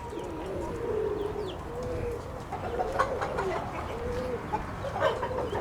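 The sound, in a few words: white homing pigeons cooing in loft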